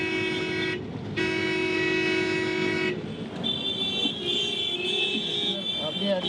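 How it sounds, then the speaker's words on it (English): Kolkata street traffic fills the scene, with long loud car horns honking in overlapping blasts, several vehicles sounding at once over a steady rumble of engines close by. "I can tell you this is the sound of Kolkata."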